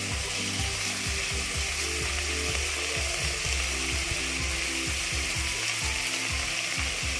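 Sliced onion frying in a pan with garlic cloves, ginger and salt, giving a steady loud sizzle that continues without a break, with occasional low scraping or stirring knocks underneath and no voices.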